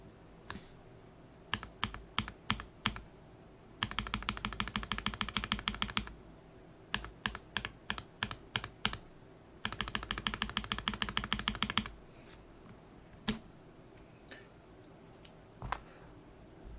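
Mechanical keyboard switches fitted with Kailh Polia stems, typed up close: sparse single clacks alternate with two dense bursts of rapid, clattering keystrokes, each lasting a couple of seconds, then trailing off to isolated taps.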